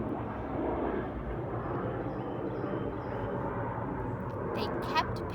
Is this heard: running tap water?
no